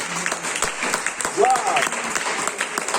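A church congregation applauding during a worship service, dense steady clapping close by with voices mixed in.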